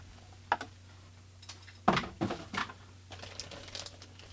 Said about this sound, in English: let's get this cardboard out the way